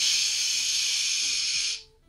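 A single steady burst of hiss from an aerosol spray can, held close and loud for nearly two seconds before cutting off abruptly.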